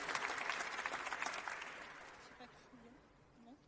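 An audience applauds at an award ceremony with a dense burst of clapping that fades out over a few seconds and leaves quiet room sound, with a voice speaking faintly near the end.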